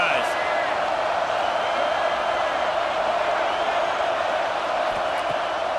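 A stadium crowd in the EA Sports College Football 26 video game keeps up a steady, dense roar that holds at one level from start to finish, with no single cheer standing out.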